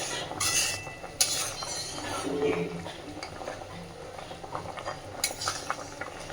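Masoor lentil curry broth with potatoes comes to a boil in a pot on the stove, giving a steady, close, crackling and bubbling texture with a few brief clinks, and no voices.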